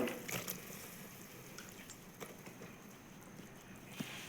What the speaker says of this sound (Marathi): आता थोडासा पाण्याचा शिटका देऊन घेऊ